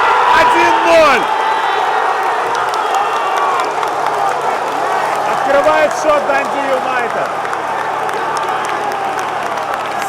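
Stadium crowd erupts in cheering and applause for a Dundee United goal against Rangers at the Scottish Premiership season opener, a loud sustained roar with a commentator talking over it.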